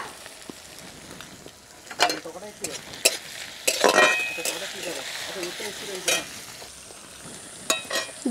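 Curry leaves and salt go into a hot pan of veg 65 made from leftover roti, crackling and sizzling under bursts of spatula scraping and stirring, with sharp pops at intervals.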